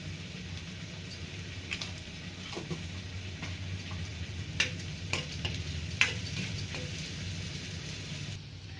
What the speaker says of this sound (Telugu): అల్లం వెల్లుల్లిపై పచ్చివాసన పోయే వరకు వేయించుకోవాలి